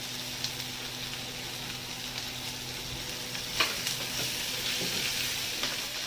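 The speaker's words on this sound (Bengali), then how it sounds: "তো আমার আদা বাটা দিয়ে কষানো হয়ে গেছে" Ginger paste with green chilli sautéing in a pan, a steady close sizzle with occasional scrape and clink of stirring.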